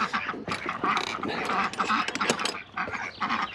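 Ducks quack loudly and continuously close by in a farmyard flock kept with drakes, a dense, overlapping chorus of harsh calls with no speech.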